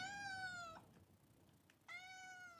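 A person imitates a cat meowing, giving two clear, drawn-out meows separated by a short quiet pause, each sliding downward in pitch and sounding close and fairly loud.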